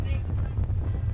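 Gusting storm wind buffets the microphone over a low rumble of a ship at sea off Palawan, Philippines, rough and steady for a brief moment.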